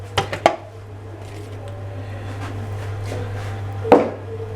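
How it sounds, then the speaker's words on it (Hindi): Clattering thuds of cooked pigeon meat dropping into a metal pressure cooker, a few sharp knocks at the start and another near the end over a low steady hum. "सबसे पहले मैं करता हूँ प्रेशर कुकर में डाल देता हूँ ये जो मैंने गोश्त बनाया था"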